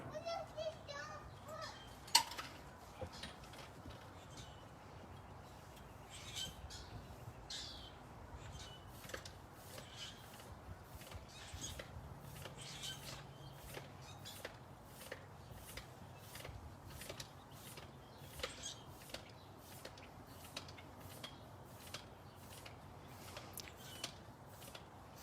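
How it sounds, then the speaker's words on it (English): A foot pump inflates a flat bicycle tire on a trail, making a long run of regular, quiet squeaky strokes under faint background noise. "I'm going to use a foot pump."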